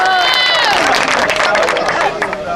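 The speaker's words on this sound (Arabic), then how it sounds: "اسمع تصفيق على الشيخ" A crowd at a volleyball final roars with applause and cheering, dense and loud throughout, with voices and whistles mixed into the noise.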